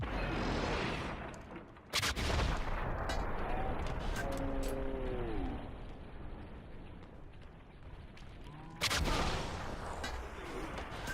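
Heavy blasts in Wolfenstein: two loud, broad explosions, the second near the end, with a deep rumbling combat din between them.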